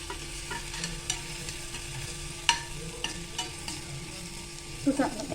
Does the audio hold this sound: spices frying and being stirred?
yes